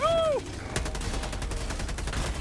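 Rapid gunfire in the video game Helldivers 2: a dense string of sharp shots starts abruptly and rattles on steadily, loud and close, after a short tonal sweep at the start.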